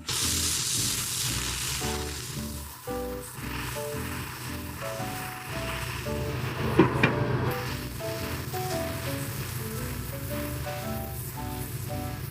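Meat and vegetables seasoned with salt and pepper sizzle under a lid in a covered pan, a continuous even frying hiss heard close, while faint background music with a steady melody plays throughout and no one speaks.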